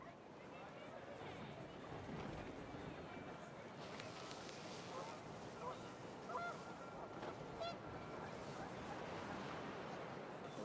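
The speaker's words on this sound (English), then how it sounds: "The wind picked up, and panicked geese appeared and quickly went." Panicked geese honk in the video game What Remains of Edith Finch, their brief calls rising over steady wind and water-like ambience, with a voice speaking over the scene.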